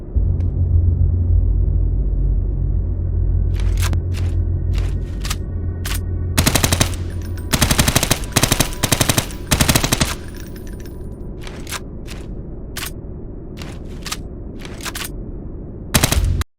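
Gunfire in the Roblox VR game ARES VR: a constant low rumble runs beneath scattered single shots and several rapid automatic bursts, loud and close, with no talking.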